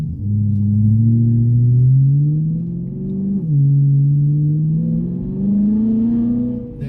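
A BMW M3 E92 V8 engine revs up close and loud, its pitch climbing steadily, dipping at a gear change, then rising again over several seconds with no speech.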